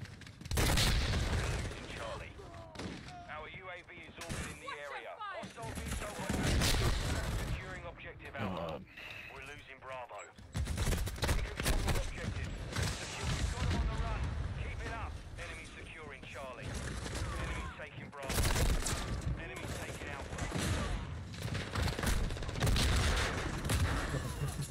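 Video-game gunfire with shotgun blasts and RPG explosions comes in rapid bursts and volleys, loud and overlapping, mixed under a player's excited talk throughout.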